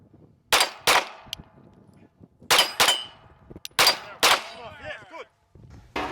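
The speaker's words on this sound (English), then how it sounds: "Now onto the spinner. I have to rotate it before moving on." Gunshots ring out at a shooting match with a steel spinner target, several sharp loud cracks in pairs followed by metallic clangs and ringing, with quieter rustling between them.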